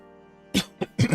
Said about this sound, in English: I'm dealing with this cough